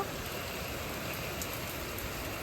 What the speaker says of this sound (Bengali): বিশাল জোর বৃষ্টি হচ্ছে কিছু সেকেন্ডের মধ্যে